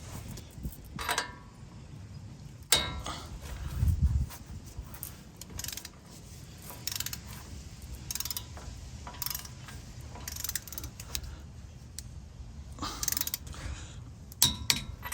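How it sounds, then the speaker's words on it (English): A torque wrench with a 22mm deep socket tightening a tie rod end on a 2018 Chevrolet Silverado 1500, quiet repeated ratchet clicks in short bursts with pauses, close and fairly faint. "I'm going to reuse the 22mm deep socket on my torque wrench, which I'm setting to about 60 foot-pounds"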